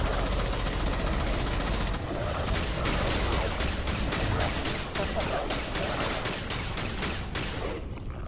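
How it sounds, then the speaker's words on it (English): Sustained automatic assault rifle fire from the Alien Breed: Impact video game, a rapid, evenly spaced stream of loud sharp shots lasting several seconds over a constant rumbling background, tapering off near the end. "It looks like my assault rifle does stun them a little bit."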